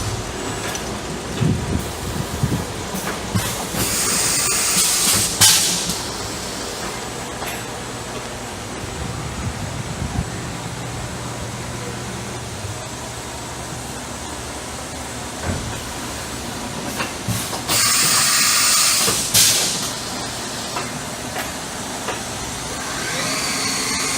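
Spindle of a 2003 Hurco VM1 CNC vertical machining center running at 3000 RPM while the machine sits blocked up on wood, a steady broadband whir with brief louder hissing bursts, no talk.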